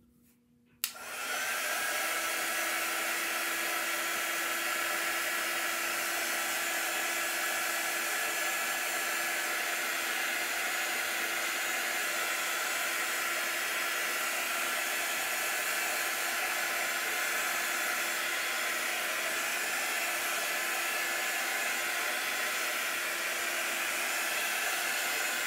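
A hair dryer drying a chalk paste craft piece switches on after a brief quiet moment and runs as a steady, loud, unbroken blowing whir for the rest of the time.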